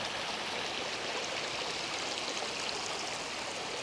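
Creek water rushes steadily through a wooden flume line running down to Cable Mill in Cades Cove in autumn, a close, continuous broadband roar with no pauses.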